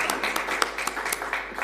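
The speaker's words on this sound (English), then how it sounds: "Let's give her another round of applause." Audience applause at a talk on data science and AI against modern slavery, a short spell of scattered, moderately loud clapping from a small crowd.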